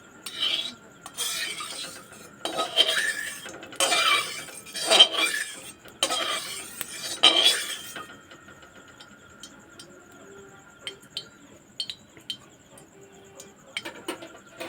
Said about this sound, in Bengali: আগে একটু নাড়িয়ে কড়ার গায়ে তেলটাকে লাগিয়ে দেবো